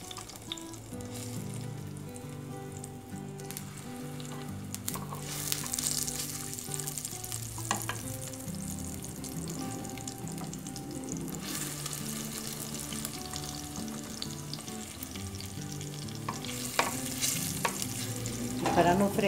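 Plantain frying in hot lard inside a clay cazuela, a steady close sizzle running throughout with scraping stirs and knocks of a utensil against the pot, no voices.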